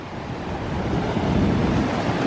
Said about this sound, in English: It's kind of windy, so don't mind that.